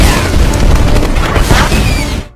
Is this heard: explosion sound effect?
yes